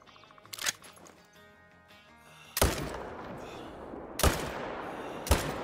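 Rifle shots from an AR 300 Magnum in the hunting game Call of the Wild ring out as four sharp, loud reports, spaced a second or more apart, each leaving a lingering echoing tail.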